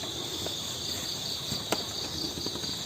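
A cricket chirps in a continuous high, shrill trill over faint background noise, with no voices.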